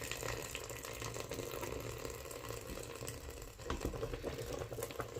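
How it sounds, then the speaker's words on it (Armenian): Boiled water pours into a cooking pot while walnut sujukh is being prepared, a soft continuous splashing and gurgling that stays faint and close throughout, with no talk. "Հիմա լցնում եմ եռացրած ջուրը"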